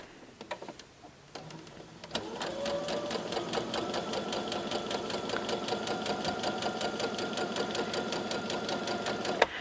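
A sewing machine stitches a diagonal seam along seam tape. After a few faint taps and clicks, it runs at an even, rapid rhythm of close, mechanical stitching that carries through to the end.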